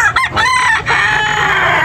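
A rooster at a backyard market in Carbon, Cebu crows loudly and close by, one long drawn-out cock-a-doodle-doo that fills the clip.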